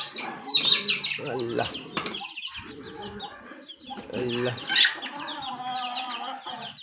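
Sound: mother hens clucking with chicks

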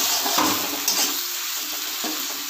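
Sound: cashews and raisins frying in pan

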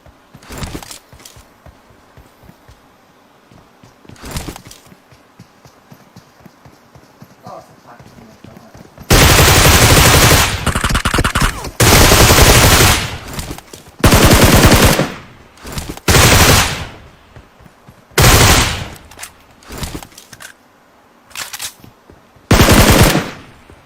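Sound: gunfire in PUBG Mobile video game

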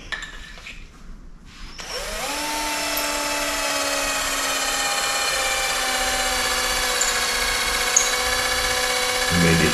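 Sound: power drill drilling

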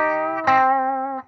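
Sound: overdrive guitar pedal

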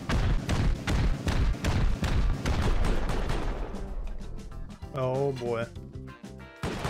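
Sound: rockets blowing up a roof in a video game

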